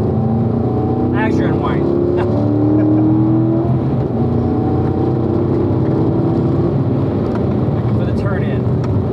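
A Corvette on a track accelerates hard with the pedal floored, its engine droning loud and steady throughout, with an instructor's voice talking over it.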